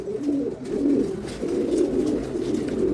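Pigeons in a loft coo steadily and softly in low, rolling repeated calls that carry on throughout, with a faint background hum and no talking.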